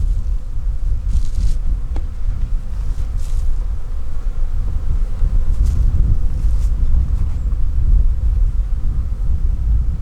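Honeybees buzz around a weak hive being given added bees, a dense, wavering drone up close, mixed with gusts of wind rumbling across the microphone.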